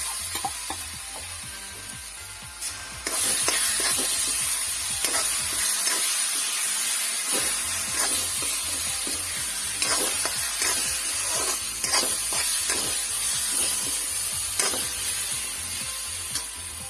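Urad dal paste frying with spices in a pan for a bottle gourd curry, a continuous close hissing sizzle broken by repeated stirring scrapes and clacks, with a brief quieter lull early on and no talk.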